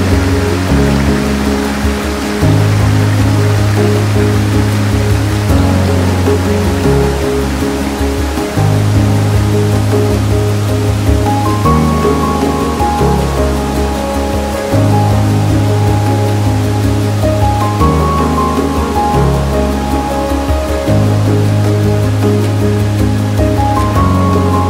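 The largest waterfall in Ireland and the UK roars continuously, a dense, loud and unbroken rush of falling water with steady tonal music running beneath it.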